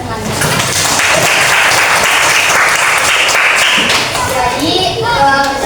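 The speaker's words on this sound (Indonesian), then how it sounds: "Oke, beri aplaus teman-teman." Classmates in a microteaching class applaud, a dense, loud patter of many hands clapping that holds steady for several seconds before thinning out, with voices talking underneath near the end.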